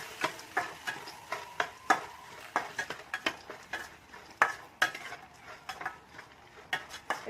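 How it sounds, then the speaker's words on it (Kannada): Cinnamon, cloves, poppy seeds, roasted gram and tomato are stirred in a pan, a spoon tapping and scraping in irregular clicks over a faint sizzle, close and without talk. "ಚಕ್ಕೆ, ಲವಂಗ, ಗಸಗಸೆ, ಹುರ್ಗಡ್ಲೆ, ಟೊಮೊಟೊ ಎಲ್ಲ ಹಾಕಿ ಚೆನ್ನಾಗಿ ಮಿಕ್ಸ್ ಮಾಡ್ತಾ ಇದ್ದೀನಿ"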